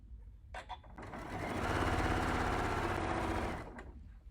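A sewing machine stitching quilt sashing runs in one steady, rapid whirring burst that swells up and then slows to a stop, close by, with fabric handling and clicks before and after.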